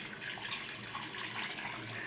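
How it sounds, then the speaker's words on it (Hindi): Water pouring steadily into a pot of daal cooking with softened tomatoes, about five to six glasses added in a continuous close splashing stream. "हम इसमें ऐड कर दूंगी पानी तकरीबन 5 से 6 गिलास"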